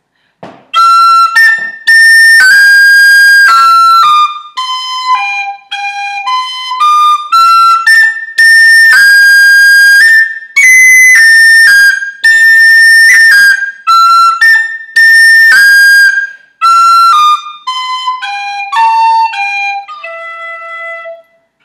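Tin whistle playing a phrase of the Irish tune Scatter The Mud, a bright, clear run of quick notes alone, with short breath breaks between bursts.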